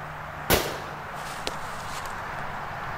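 300 Blackout rifle fired over a chronograph outdoors: one sharp, loud report followed by a fainter crack about a second later, then a quiet tail.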